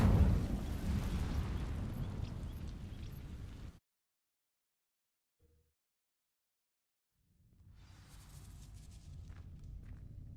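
Incendio fire spell setting dry vines alight in Hogwarts Legacy, a loud roaring whoosh of flame that suddenly cuts to silence, then a quieter crackling rumble of burning returns.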